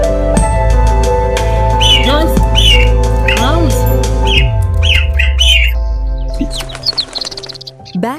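A little bird squawks and chirps in short scattered calls over a sustained musical backing, the calls thinning as the music drops near the end.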